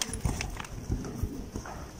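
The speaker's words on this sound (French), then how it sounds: "continue de le bosser au trot, Léna." A horse trots in a dressage session, its hooves giving a steady, even clip-clop rhythm at moderate distance over faint background ambience.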